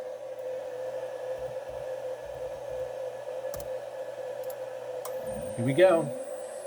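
CNC spindle motor driven by an HY VFD spooling up, with a steady whine at moderate level that rises in pitch near the end. A short spoken phrase is heard over it.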